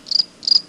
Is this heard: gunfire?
no